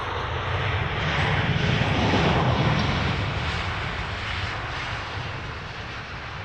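A fixed-wing airliner taking off at Heathrow Airport, a loud, steady roar of jet engines that swells slightly and then eases as it climbs away, continuous and broadband with no voices.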